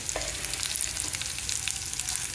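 Ginger sizzles and crackles steadily in hot oil in a pan, with cumin seeds added, a close, continuous frying hiss with small popping bursts and no talking.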